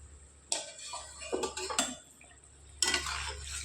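A lid lifted off a pot of small-fish curry cooking on a gas stove, with a few clattering metal clinks and scrapes in short bursts, fairly close, over a steady low burner hum.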